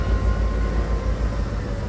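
A train rolls past in the Trainz 2022 railway simulator game, a steady heavy low rumble with a faint tonal whine, loud and continuous throughout.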